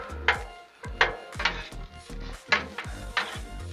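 A utensil scrapes and stirs noodles and stir fry on a Blackstone griddle, giving a series of irregular metallic scrapes and taps about every half second, close and clear with no voices.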